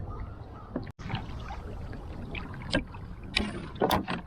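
Canoe paddled solo into the wind on a river or lake route, with rhythmic paddle strokes and water splashes over steady wind noise, strokes growing louder toward the end.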